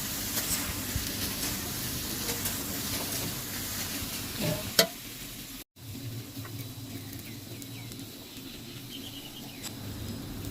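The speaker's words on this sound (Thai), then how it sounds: "เสร็จแล้วก็ผัดให้เข้ากันค่ะ ไฟร้อนๆเลยค่ะ" Instant noodles with egg and sauce are stir-fried over high heat, a soft steady sizzle with scraping of the spatula and a brief clank midway, fairly quiet and without talk.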